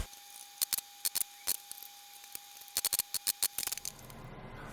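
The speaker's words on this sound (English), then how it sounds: "Then I just use my chisel and I make the mortise complete and check fits along the way." A chisel cutting a mortise in wood, heard as a series of short, sharp, close taps and clicks in irregular clusters over a faint steady hum, then a softer rustle at the end.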